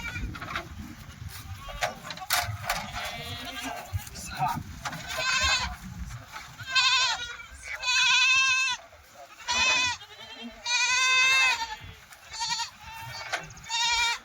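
Kathewadi goats packed in a vehicle bleat repeatedly in loud, wavering cries that come in overlapping bursts, with rumbling handling noise and someone talking between the calls.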